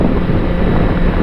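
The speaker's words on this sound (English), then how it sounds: "it's a bit windy as well." Wind roaring over the microphone of a rider on a motorcycle, a loud, dense, low buffeting rush lasting only a moment with no other sounds.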